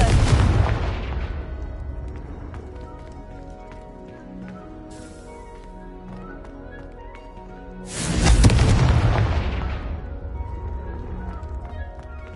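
A Confringo spell explosion in Hogwarts Legacy opens loud and booming, then decays into quiet game ambience. A second heavy blast lands about eight seconds later and rumbles out slowly.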